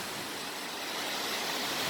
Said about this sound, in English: It is called Cascade Creek. Isn't that a lovely little waterfall?